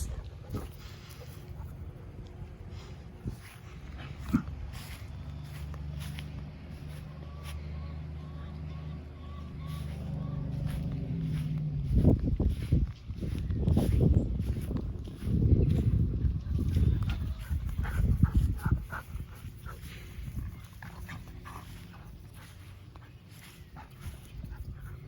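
Puppies yip, whimper and bark indoors, several short close barks bursting out over steady low background noise, with a person talking excitedly nearby.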